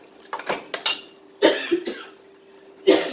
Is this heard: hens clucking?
no